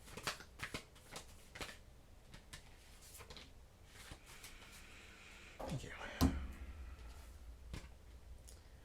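Oracle cards are shuffled and drawn by hand, a string of quick papery riffles and flicks close by, with a few louder rustles and a thump partway through, under intermittent talking.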